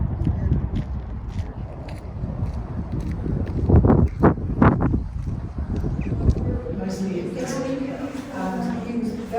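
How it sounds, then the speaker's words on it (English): Gusty wind buffets the microphone with a low rumble outside Kingston Lacy House, and people talk faintly toward the end. "It's very windy."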